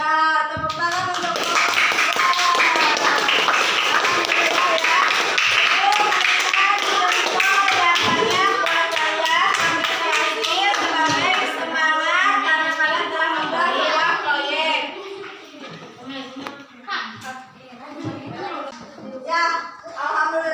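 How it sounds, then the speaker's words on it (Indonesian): A crowd claps steadily for about fifteen seconds, dense and loud, then the applause thins into scattered claps and faint voices. "tepuk tangan untuk"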